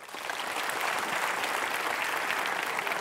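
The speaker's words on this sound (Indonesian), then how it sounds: "Tepuk tangan ya" Audience applause at a motivational talk, a steady dense wash of many hands clapping together, sustained and even throughout with no voices over it.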